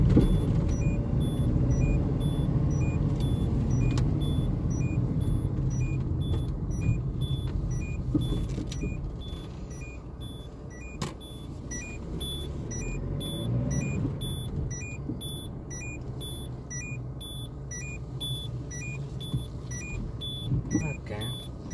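Cars idle and move around a supermarket car park, with a continuous low engine rumble, repeated reversing beeps throughout, and people talking over the traffic.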